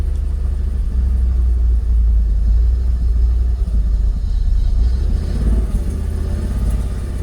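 A Jaguar XKR engine idles roughly and unevenly, close and loud, a deep rumble that wavers as if about to stall, running steadily throughout without voices.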